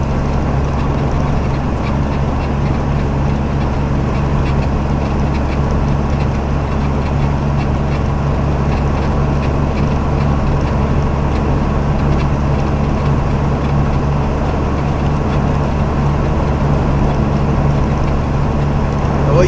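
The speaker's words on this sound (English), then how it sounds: "I kicked the engine brake up to the highest setting for this stretch." Steady low rumble of a semi truck with a 13-speed manual transmission running its engine brake on its highest setting, descending a long mountain grade on I-80 near Elk Mountain, Wyoming, at about 50 mph, loud and continuous throughout.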